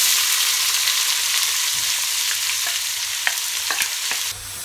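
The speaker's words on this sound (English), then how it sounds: "It's time to put the onions in." Onions hiss and crackle loudly in a hot pan with popping herbs and spices for an Indian chicken curry, with occasional sharp clicks of stirring over a dense, steady sizzle, close and without talk.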